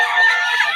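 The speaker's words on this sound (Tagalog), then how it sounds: "Solid ang manok nito ni Boss Albert." A rooster's crow rings out close and loud, a single sustained, slightly strained call filling the whole short moment.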